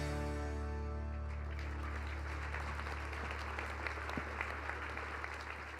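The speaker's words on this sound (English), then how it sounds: "Let's hear it for Sam Switzer, Lifetime Philanthropist" Audience applause at an award ceremony for a lifetime philanthropist, steady dense clapping from a crowd that follows a fading sustained tone and continues evenly to the end.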